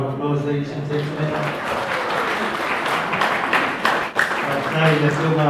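An audience at a memorial service gives a steady round of applause, a dense wash of clapping that runs continuously, with a voice speaking over it at the start and end.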